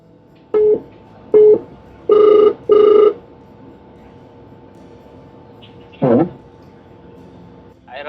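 An outgoing phone call placed by voice assistant on a phone, with short electronic tones followed by two longer ringback pulses, then a brief chime, clear and close with no speech over it.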